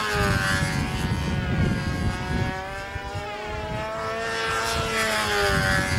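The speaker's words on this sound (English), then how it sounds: "This is one nice flying ship, Jimmy." A propeller-driven model airplane at the Brodak fly-in passes overhead, its loud buzzing engine whine rising and falling in pitch as it sweeps by, continuous and close.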